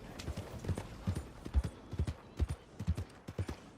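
Hooves of a horse in Red Dead Redemption 2 clip-clop in a steady walking rhythm, crisp close thuds repeating evenly over a soft background with no talk.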